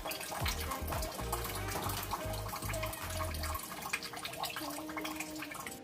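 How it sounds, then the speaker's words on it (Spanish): Water runs and splashes at a steady, moderate level while rice is rinsed for Dominican chicken locrio, with low rhythmic thumps of handling underneath and no speech. "voy a lavar el arroz para añadir"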